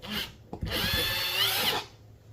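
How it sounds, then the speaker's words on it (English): A cordless power drill backs out the screws holding a kitchen light fixture to the ceiling, with a short whir, a brief pause, then a longer steady high-pitched spin, close and loud with no talking. "what we're going to do now is just loosen up the screws that's mounting this up"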